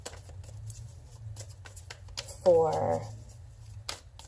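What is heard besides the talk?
tarot cards being shuffled sloppily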